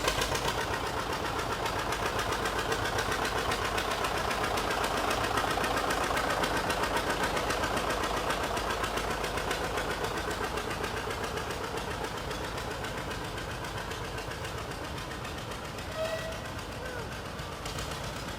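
An old tractor engine chugs steadily with a knocking idle throughout a Kansas threshing bee tractor parade, moderately distant and continuous, with faint crowd ambience around it.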